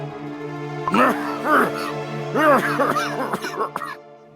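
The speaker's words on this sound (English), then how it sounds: "Why are you coughing?" Several harsh coughs from a character in Cookie Run: Kingdom, arriving in uneven bursts over a faint steady background tone.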